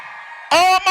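A nightclub crowd of women screams loudly during a live concert, a sustained shrill roar bursting in after a brief quieter stretch, dipping for a moment, then surging again.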